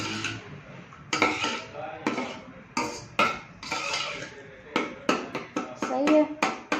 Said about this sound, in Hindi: इसको ऐसे मिक्स करना है अच्छी तरह